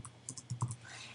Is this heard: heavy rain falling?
no